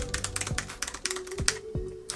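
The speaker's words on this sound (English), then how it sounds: "they're nice and clicky, just like any almost like a mechanical keyboard" Rapid clicky typing on textured, mechanical-style keyboard keys, a quick uneven run of crisp taps heard close and alone.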